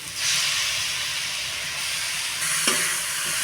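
Tomatoes and amaranth leaves sizzle steadily in a frying pan, a bright continuous hiss that holds throughout with a brief stirring clatter near the end.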